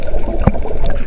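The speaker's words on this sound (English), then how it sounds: "The boat sinks to the bottom of the river." A cartoon boat sinks to the bottom of a river with a single short watery gulp or splash midway, set against a steady background hum.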